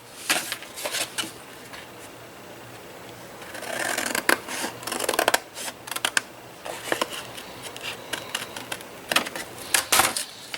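Dull scissors snip through paper in uneven bursts of crisp cuts, close up, with short pauses between runs of snipping.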